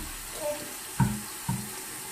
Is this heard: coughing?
no